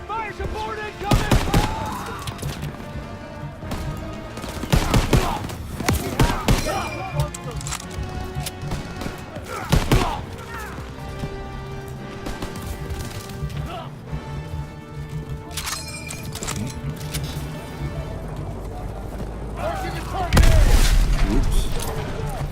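Gunfire and heavy artillery booms in the World War II shooter Call of Duty WWII, with repeated loud blasts and bursts under ongoing voices and game sounds.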